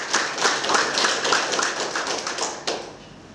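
Wedding guests clap during a vow ceremony, a moderate group with uneven, overlapping claps that thin out toward the end, one sharper clap standing out near the finish.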